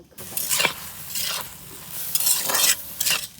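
Oil sizzling loudly in a pan while leafy bottle-gourd greens are cooked, with several bursts of hissing and stirring scrapes rising and falling in uneven waves, close and prominent.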